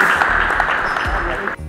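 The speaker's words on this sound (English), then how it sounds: "Please give them a big round of applause." Audience applause at an International Yoga Day event in Uganda, a short burst of dense clapping from a gathered crowd, fairly loud and close, cutting off abruptly near the end.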